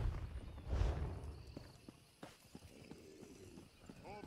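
Horse hooves in The Elder Scrolls Online clip-clop at a walking pace, irregular thuds close by, with faint background murmur and a brief rumble early on.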